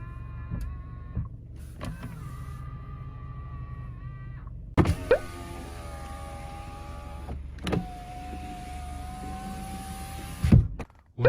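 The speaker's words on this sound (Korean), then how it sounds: "접이식 사이드 미러" A Hyundai NF Sonata Transform's folding side mirrors whir under electric motor drive, two long steady motor runs each ending in a soft clunk, close and clear inside a quiet car.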